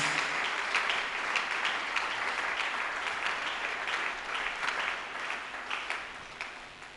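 A church congregation at a Sunday service claps hands hard and continuously, a sustained round of applause with sharper claps rising out of the steady wash.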